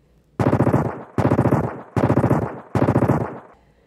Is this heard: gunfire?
yes